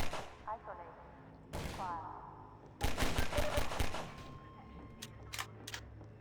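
Rapid bursts of automatic gunfire from a video game weapon crackle in a dense cluster midway through, followed by a few isolated shots, with voices talking around them.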